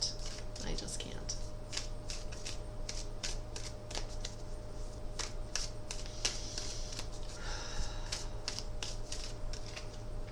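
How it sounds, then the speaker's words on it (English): Tarot cards being shuffled by hand, a rapid run of crisp riffling flutters and soft slaps repeating across the whole stretch, close and clear over a steady low hum, with someone speaking faintly in places. "I tried to shuffle those a different way, and I just can't."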